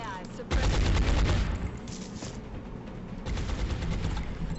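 Suppressive gunfire from the Long War video game: a sustained, loud burst of rapid game gunshots opens after a brief quiet moment, followed by continued volleys of shots at near range.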